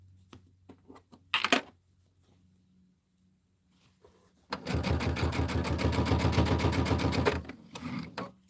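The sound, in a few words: sewing machine stitching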